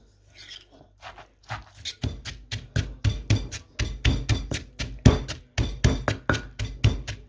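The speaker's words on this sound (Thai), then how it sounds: "ได้จังหวะดิค่ะเสียงโต๊ะสะเทือน" Rapid, steady rhythmic thumping of pounding in a mortar, with the table shaking in a wooden knocking rattle, close and fairly loud, continuing for several seconds without speech.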